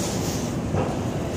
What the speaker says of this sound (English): once that train goes away